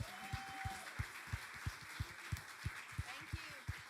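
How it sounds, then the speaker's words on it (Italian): Church audience clapping in a steady, even rhythm, individual claps distinct and fairly close, with a brief voice and background sound mixed in. "Noi vogliamo applaudirvi."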